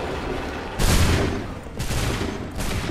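Massed musket volleys from Assassin's Creed III crash out in three broad bursts, each a loud ragged roar that swells and tails off, with no voices over them.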